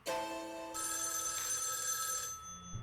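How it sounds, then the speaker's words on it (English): A telephone rings from the next room in the video game NG, a bright, steady electronic ringing tone that holds for about two seconds and then fades, heard alone and fairly loud. "Suddenly the phone rings from the next room."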